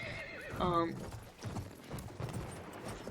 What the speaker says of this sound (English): you feel pretty powerful when you're on the horse. So the horse has a lot of health.